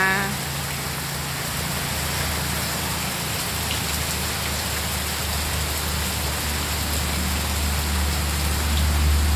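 Heavy midday rain pours down in a steady, dense, loud patter of drops striking surfaces nearby, continuous and unbroken throughout with no voices.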